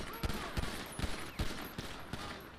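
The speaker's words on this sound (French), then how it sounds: "On me tire dessus." Faint, rapid gunfire crackles in a video game, a string of short sharp shots scattered through a dense noisy background, distant and low in level.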